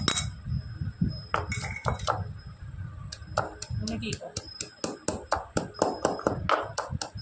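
Sharp clinks and knocks repeat in an uneven rhythm as a pestle crushes garlic and fennel in a small mortar, with soft kitchen rustling underneath.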